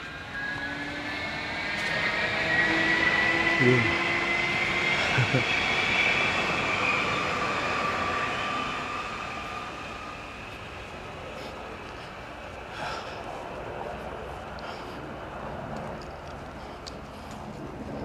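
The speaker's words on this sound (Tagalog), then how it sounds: "Diyan na yung tren." A train passing at a moderate distance in Hürth, Germany, rumbling and clattering with a high screeching whine, slowly fading; a voice speaks briefly.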